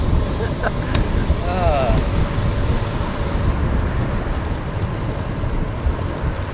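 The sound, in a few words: wind blowing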